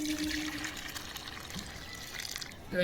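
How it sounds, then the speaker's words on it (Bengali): Water poured into a bowl of turmeric mixture prepared as a remedy for pigeons, giving a steady close splashing pour for a few seconds. "এরপরে জলটা দিয়ে দিলাম এর মধ্যে"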